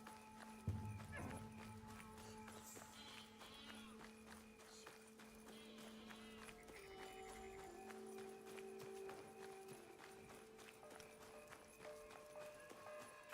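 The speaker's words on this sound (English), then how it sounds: "It's my horse." Hoofbeats of a horse in the video game Assassin's Creed Shadows, a steady clip-clop with a brief whinny, carried under game music and ambient sound at moderate level.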